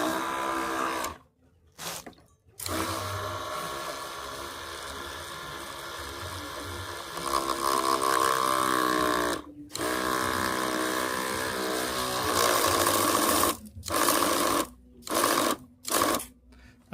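A Sukatani double-pump electric sprayer rated at 160 PSI runs steadily with a buzzing, mechanical motor drone, cutting out briefly several times, especially toward the end.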